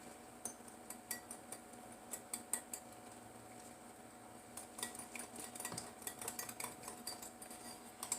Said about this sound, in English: In here I have 2 eggs that I'm going to beat up